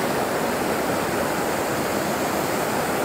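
Waterfalls on the Norfork River in Arkansas rush with a steady, dense hiss of falling water, close and constant with no voices.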